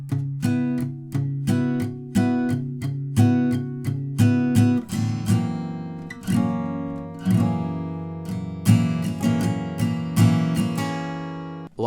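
Acoustic guitar strums chords from a song, with steady down-and-up strokes in a regular rhythm, close and clear, moving between chord shapes alone without any talk.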